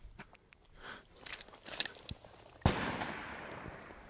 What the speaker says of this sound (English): That fast shooting